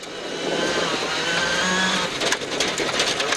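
A rally car approaches an accident scene on a gravel stage in Australia, its engine a moderate, steady whine that rises slightly, with brief rattling clatter near the end.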